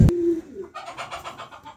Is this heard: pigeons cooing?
yes